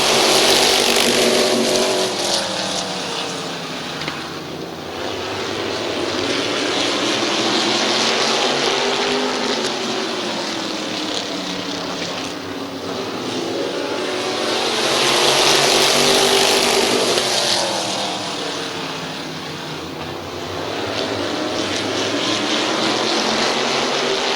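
Modified race cars in an eight-lap heat race at Midvale Speedway, engines roaring loudly as the pack sweeps past, the sound swelling and fading in repeated waves as the cars circle the track.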